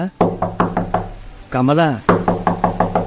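A door is knocked on in two quick series of sharp raps, about five knocks each, with a short burst of a person speaking loudly between them.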